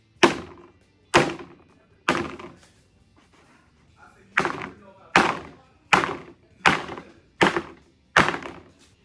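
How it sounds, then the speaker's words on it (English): Cake pans filled with lemon blueberry batter are shaken and banged on a counter to release air bubbles, giving about nine loud, sharp thunks at a steady rhythm with brief rattling in between and no talking. "now I'm going to shake them and bang them to get the air bubbles out"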